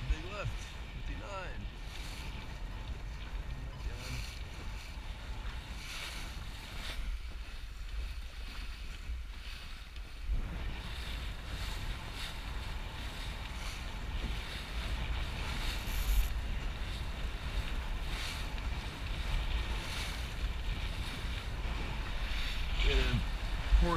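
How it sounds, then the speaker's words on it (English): Sailboat sailing upwind in strong breeze before a race, with wind rush and waves slapping the hull in a continuous washing roar; a voice speaks now and then over it. "sailing upwind, getting numbers before a race"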